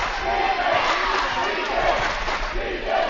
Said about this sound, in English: Claremore crowd getting into it.